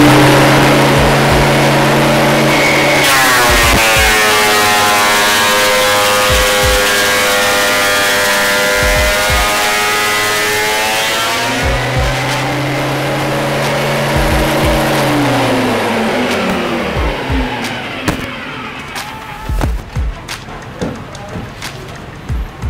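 Fujiyama PP9012 portable wood planer motor spinning up to a loud steady whine, then winding down, with a few clunks and knocks near the end and voices talking around it.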